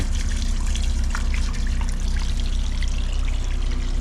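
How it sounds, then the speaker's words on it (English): Water and sewage gush and trickle steadily out of a blocked sewer drain, a continuous close-up rush of liquid with no voices. "You can see all the water and sewage draining in underneath it."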